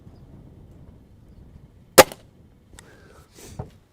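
A Gamo Swarm Viper air rifle fires a single sharp, close crack that fades fast, followed a moment later by a fainter metallic tick and a short knock against a quiet background.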